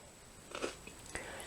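Crisp crunches of someone biting into plain wheat Provita crackers from a South African ration pack, a couple of quiet close bites with brief crackling, otherwise near silent.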